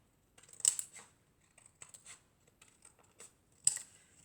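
Scissors cut leftover paper for a patchwork paper card, giving crisp, close snips spaced irregularly, with two sharper cuts standing out and quiet gaps between them.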